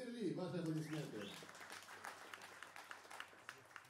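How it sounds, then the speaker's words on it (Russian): Audience applause welcoming a jazz piano trio and guest at a concert, a dense patter of clapping that starts over a spoken introduction and continues on its own, gradually thinning. "Ваши аплодисменты."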